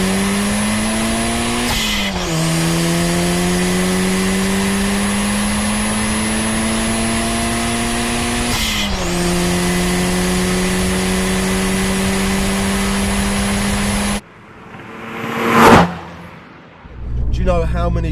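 A GT4 engine revs hard toward its 7,800 rpm redline, pitch climbing steadily through long gears with two quick dips at shifts, loud and close inside the cabin, then cutting off into a few short bursts of noise.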